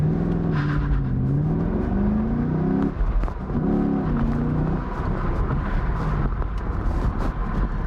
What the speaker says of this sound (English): take this Camaro back out on the road and see the difference